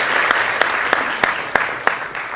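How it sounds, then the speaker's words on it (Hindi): A crowd applauding steadily with sharp accented claps at regular intervals standing out above the dense clapping, all heard fairly close. "एक बार जोरदार तालियां जरूर"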